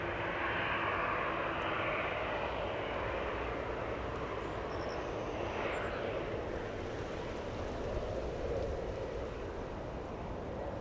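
A jet airplane takes off at Ted Stevens Anchorage International Airport, heard as a steady, moderately distant broadband engine roar that holds for about eleven seconds with no talk.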